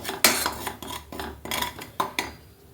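Sambar powder mixture being stirred in a pan with a metal spoon, giving repeated scraping clinks in an uneven rhythm, close and fairly clear, with no voices.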